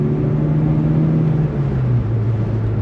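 Renault 5 GT Turbo hot hatch accelerating on the road: a steady, close engine drone with a tone that climbs gradually and holds loud throughout, with no talking.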